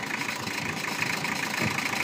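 A Mazda Bongo diesel van engine idles close by, a constant low rumble with a faint rattling texture and no change in pace.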